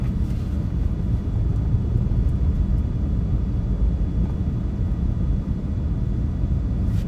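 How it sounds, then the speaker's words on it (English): Steady broadband fan-like whir holds loud and constant throughout, a continuous rumble with no breaks, heard in the background during a live storm chase toward a winter storm in northern Illinois. "Do you have a fan noise in the background right now?"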